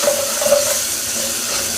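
Onion and tomato with mint and coriander fry in a pan for Ramzan ganji, giving a steady soft sizzle with faint stirring scrapes, close and continuous with no talking.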